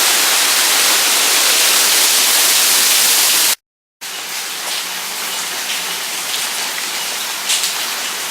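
Heavy rain pouring during Hurricane Harvey in Houston, a loud dense hiss of downpour on surfaces, steady and close, broken by a brief cut near the middle before resuming.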